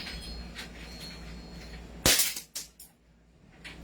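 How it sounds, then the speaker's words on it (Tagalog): A single sharp gunshot from a firearm being fired at a firing range, loud and close, followed by a brief decaying echo and quieter handling noise before the shot. "Okay, sir, firing."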